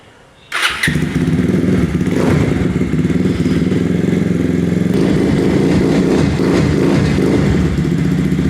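A motorcycle left parked for over two weeks starts up with a sudden loud catch, then settles into a steady, close, rumbling idle that continues throughout.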